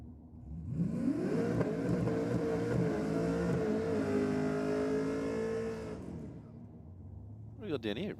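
A Range Rover launches and accelerates hard down a drag strip at a night race meeting, its engine note rising steadily through the gears for several seconds, loud and close, before fading as it pulls away; a brief burst of other noise follows near the end.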